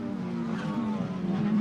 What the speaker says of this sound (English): Here's Yoshihara working his way through TCA traffic